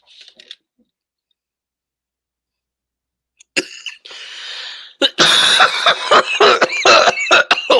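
Silence gives way to a rough exhale, then a burst of harsh, repeated coughs, loud and close, coming in quick hacking bursts.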